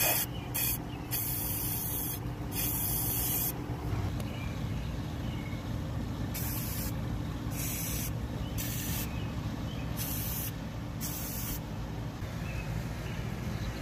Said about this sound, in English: So I'm gonna have to spray that down with some rust penetrant